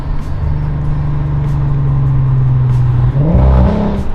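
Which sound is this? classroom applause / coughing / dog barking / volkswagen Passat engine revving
volkswagen Passat engine revving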